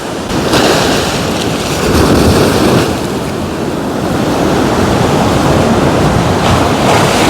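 Loud surf and gusting wind on the Black Sea shore at Chornomorsk in March, a continuous roar of breaking waves with wind buffeting the microphone and no voices.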